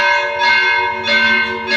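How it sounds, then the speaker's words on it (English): Church bell rung in a town about fifteen minutes before 7 a.m., a steady sustained metallic tone with rich overtones swelling in repeated strokes, loud and alone without voices. "15 minutes before 7 a.m., they are ringing the bell"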